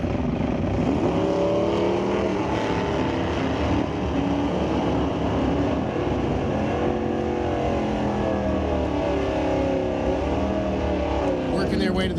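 A 1974 Pontiac Firebird 455 and a rag-top Fox body Mustang thunder down a drag strip, their engines giving a loud, continuous roar with wavering, rising pitch that carries on throughout.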